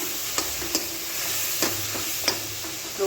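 Onions cook in a pan over a low gas flame, a steady broad sizzle running throughout, with a few sharp stirring scrapes and taps breaking through at intervals.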